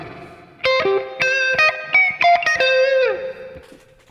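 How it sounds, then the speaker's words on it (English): An electric guitar plays a short minor blues run of bright, ringing notes drenched in splashy spring reverb, the final chord trailing off into a wobbly tail. "I'm using a really classic sound. I'm using spring reverb"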